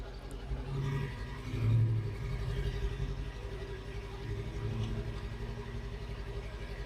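A police car pulls away nearby at night, its engine rumbling low and swelling briefly as it accelerates, then settling into a steady hum under a motorcycle's idle.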